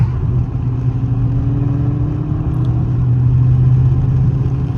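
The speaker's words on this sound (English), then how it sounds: "He just put in some E85 in there, so he's just testing it out. Sounds crazy." A Dodge Charger R/T running on E85 fuel gives a steady, loud, low engine drone with a slowly rising rev, close by and alone.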